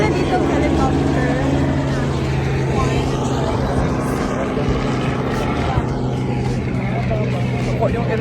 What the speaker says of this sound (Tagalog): meron nga pala dito helicopter